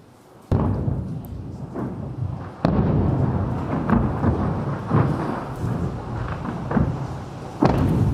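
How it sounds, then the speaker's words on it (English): Heavy booms and rumbling blasts from missiles falling on Tel Aviv and anti-missile interceptions, several sharp thuds rolling into sustained low rumble at a distance, continuous and loud across the scene. "missiles are falling on Tel Aviv right now, live, and the upward flares would be, those are the interceptions"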